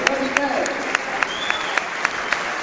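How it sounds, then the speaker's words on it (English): Warm applause from Doncaster Rovers fans at the Keepmoat Stadium during a substitution against Rochdale, steady crowd clapping with a commentator talking over it. "Look at that, warm applause from three sides of the Keepmoat Stadium."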